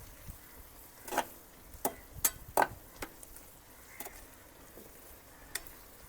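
Faint sizzling of a green garlic, chili and coriander paste frying with tiger octopus in a pot on a wood-fired stove, broken by sparse sharp ticks and scrapes of stirring, with no talk.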